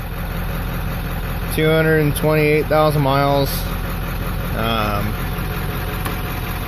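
A 1995 Ford Powerstroke diesel with 228,000 miles idles steadily, a low continuous drone that someone talks over throughout.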